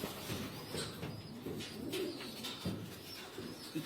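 Racing pigeons coo softly in their loft, a few low, repeated throaty calls rising and falling over a faint background.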